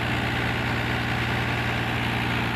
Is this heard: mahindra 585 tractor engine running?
yes